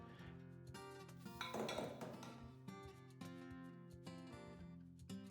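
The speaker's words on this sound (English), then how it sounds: "take the dough hook and the bowl off of the mixer" A dough hook and mixing bowl are lifted off a stand mixer, giving scattered metallic clinks, a ringing ping and a brief scraping rustle, quiet and close with no talking.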